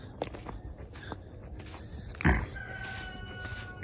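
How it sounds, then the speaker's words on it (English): Chickens in a farm chicken run cluck and call faintly at a distance over outdoor ambience, with a louder squawk midway and scattered footsteps nearby. "There's the chicken run."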